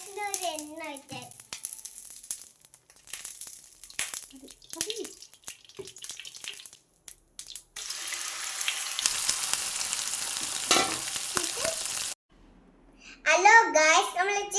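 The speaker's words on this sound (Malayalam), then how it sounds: "ഫ്രൈ ചെയ്ത് ചിക്കനകത്തിടാം. ആവശ്യത്തിന് ഒരു എണ്ണ വെച്ചാൽ" Chicken fries in oil in a home kitchen. A steady, close sizzle fills the middle stretch, and a voice is heard talking before and after it.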